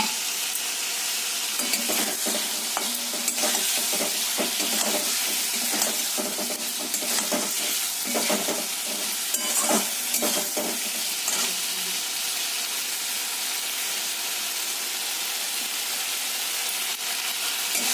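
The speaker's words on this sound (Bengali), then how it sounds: "আলুগুলো ইয়ের মধ্যে কষিয়ে নিই" Potatoes fry in a pan with a loud, continuous sizzle, broken by frequent scraping and knocking of a spoon as they are stirred, close up and with no voices.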